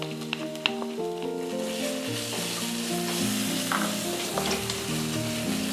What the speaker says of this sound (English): So you fry in the onions together until the color is well distributed.